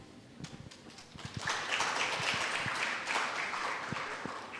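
Audience applause for a panel of speakers at a youth forum in Aceh, a broad rising wash of clapping that swells after a second of scattered claps and holds steady, moderately loud, with no talk over it.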